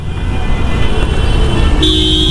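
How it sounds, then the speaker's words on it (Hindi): Dense, loud road traffic on a busy city road in Newtown, Kolkata, with a steady engine roar and repeated car horn toots, a long horn blast near the end. "बहुत ट्रैफिक है।"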